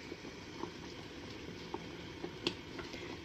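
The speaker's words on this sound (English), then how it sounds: "And I bring it to a rolling boil, which sounds fun." Pot of Seville orange marmalade at a rolling boil, a soft steady bubbling with scattered small pops and ticks, close and fairly quiet, with no talking.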